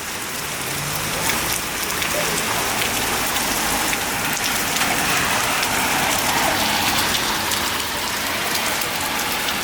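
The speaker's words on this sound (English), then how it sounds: "Little hailstones." Small hailstones fall during a hailstorm in Santa Monica, California, a dense, steady patter of ice pellets striking surfaces across the whole stretch, moderately loud with no voices.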